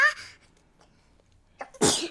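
A single sharp sneeze bursts out loudly near the end after a short intake of breath, close to the listener.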